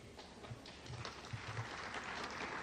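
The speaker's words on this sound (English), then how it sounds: "Thank you, UCLA, for applauding." An audience at a UCLA summit applauds steadily, a soft, distant wash of many hands clapping with no voices over it.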